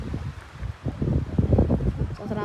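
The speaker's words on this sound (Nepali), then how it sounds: "पुरै हावा चलिरहेको छ" Strong wind blowing outdoors on a hilltop trip, gusty low rumbling buffeting the microphone in uneven surges, loud and close throughout with no clear speech.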